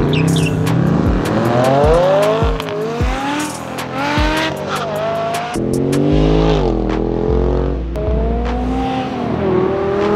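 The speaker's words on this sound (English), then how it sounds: "Let's hear the exhaust." A BMW's exhaust roars past in a loud flyby. The engine revs rise and fall in sweeping tones, broken by sharp pops and crackles, and a deep, rumbling drone builds toward the end.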